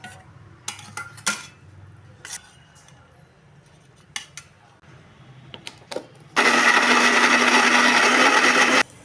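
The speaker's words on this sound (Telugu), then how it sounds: "ఇది మొత్తం మిక్సీలో వేసుకుందాం" A few clinks and taps of utensils come first. Then a mixer grinder blending okra, tomato and green chillies starts abruptly and runs loud and steady, a harsh whirring roar up close for the last few seconds.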